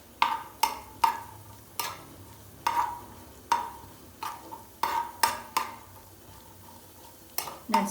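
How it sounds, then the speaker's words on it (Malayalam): Nuts fry for upma in a pan while a spoon strikes and scrapes the metal in repeated sharp clinks, about a dozen irregular hits over a soft, steady sizzle. "നട്ട്സ് മൂക്കാനായിട്ട് തുടങ്ങിയിട്ടുണ്ട്."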